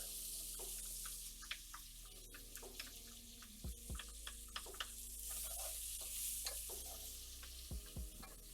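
Onions sizzling in melted butter in a pan, a steady moderate frying hiss with scattered stirring clicks and a couple of low thumps, no talking.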